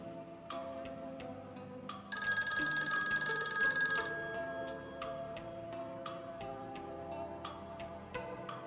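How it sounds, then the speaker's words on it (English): A telephone ringing in short repeated bursts, fairly close and clear, with a louder electronic ringtone passage in the middle and quiet room sound between rings. "I heard my phone ring."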